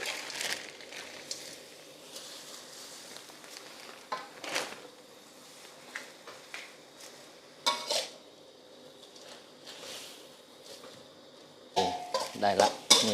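Instant Korat noodles stir-fried in a pan, with repeated clatters of a utensil against the metal pan and scraping over a soft sizzle, close and busy, growing louder near the end.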